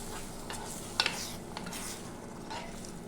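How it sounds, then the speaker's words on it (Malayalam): Cashew nut curry with tamarind water being stirred in a pan for Kerala theeyal, a close bubbling sizzle with scraping strokes and a couple of quick spoon clinks against the metal. "നന്നായിട്ട് ഇളക്കി കൊടുക്കാം."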